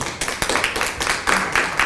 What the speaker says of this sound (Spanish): un aplauso gigante para Johnny